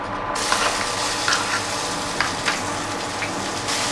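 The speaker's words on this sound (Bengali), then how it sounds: "মিডিয়াম টু লো ফ্লেমে এই পেস্টটা ভালো করে ভাজা ভাজা করে নিতে হবে" Green pea paste fries in a pan over medium-low heat for pea kachori filling, giving a steady wet sizzle and bubbling hiss at close range with a few soft clinks, no talking.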